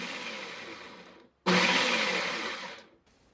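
A motorized food processor chopping fresh Cheongyang chili peppers whirs loudly in two bursts, a brief pause between them, then spins down.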